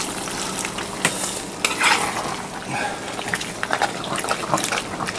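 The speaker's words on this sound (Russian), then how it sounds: "Я шклябываю пригар, чтобы он не превращался в черный пригар" A spoon scrapes burnt bits off the bottom of a kazan while dymlyama cooks after a splash of water, giving soft sizzling under repeated scraping strokes at a moderate level, with no speech.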